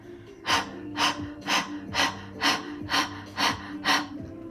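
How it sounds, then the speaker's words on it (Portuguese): Breath of fire breathing exercise: eight rapid, forceful nasal exhalations in a steady rhythm of about two per second, close and loud, with no talking. "Para quem está iniciando, faça a respiração do fogo, né?"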